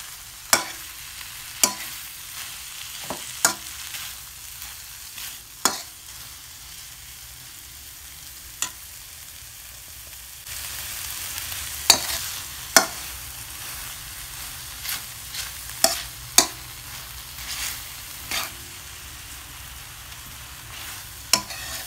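Corned beef with cherry tomato being sautéed in a pan, with a steady soft sizzle under sharp, scattered clinks and scrapes of a spatula stirring, the frying growing louder in the second half; no talking.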